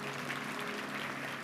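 A church congregation applauds during a sermon, a dense, even wash of many hands clapping at a distance, faint and steady throughout the short moment.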